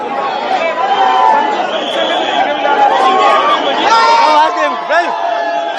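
Cricket fans celebrate along Marine Drive in Mumbai after India's T20 World Cup semi-final win over England. A dense crowd keeps up a loud, continuous roar of chatter, cheering and whoops, with a few rising shouts standing out near the end.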